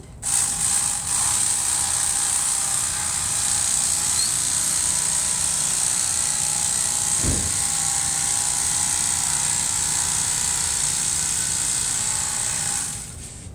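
A blade, apparently an electric knife, cuts upholstery foam for a chair, giving a loud continuous mechanical whir that runs almost the whole time, with one brief low thump midway.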